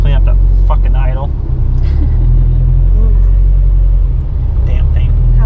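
A car engine on a dyno idles roughly with a loud, steady low rumble that wavers unevenly, while someone talks over it.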